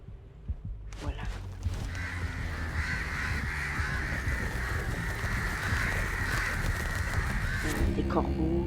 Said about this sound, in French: Des corbeaux, de l'eau.